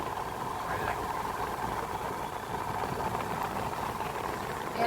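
A motorcycle engine hums at idle throughout on Doddabetta peak in the Nilgiris, a continuous low drone with no clear revving, fairly close and unbroken.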